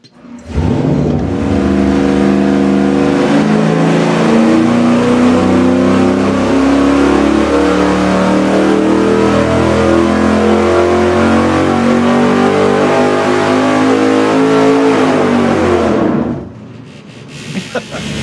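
A V8 engine fitted with an Edelbrock RPM intake screams loudly at full throttle on a dyno for about fifteen seconds, holding a steady roar before cutting off abruptly. Voices are faintly heard at the end.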